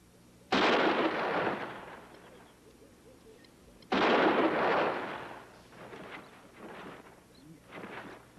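Rifle gunshots from buffalo hunters on the plains, two loud booming reports several seconds apart, each with a long rolling echo, followed by fainter distant shots.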